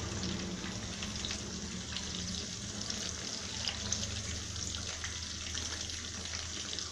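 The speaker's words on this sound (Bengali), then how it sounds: "পটলটা এক সাইড ভালো করে ভাজা হয়ে আসলে একে আমি আরেকটু উল্টে দিই" Stuffed pointed gourd fries in a pan with a continuous, even sizzle of hot oil that stays steady and close.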